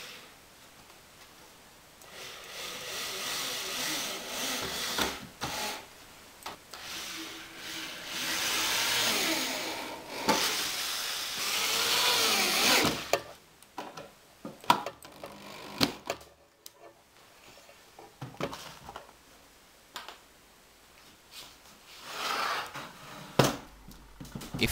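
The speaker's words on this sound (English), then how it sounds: "Now drilling holes for screwing the sides together." Holes drilled with a power drill into the wooden sides of a planter box, with bursts of whining drilling and pauses of handling and knocks between them, moderately loud and close.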